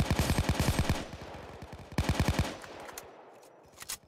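Rapid bursts of video game gunfire in a team match, two loud strings of automatic shots separated by a short gap, then scattered faint single pops trailing off.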